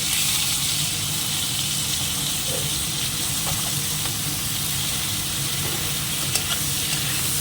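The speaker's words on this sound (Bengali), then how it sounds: "একটু করে ভেজে তুলবো আগে হালকা ভাজবো" Food lightly frying in a hot pan with oil, a dense, even sizzle and stirring noise that holds steady throughout, close and fairly loud.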